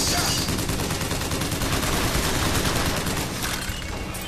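Dense, sustained gunfire from the video game BioShock Infinite, a rapid fusillade of overlapping shots holding at high level for the whole stretch with no clear pauses.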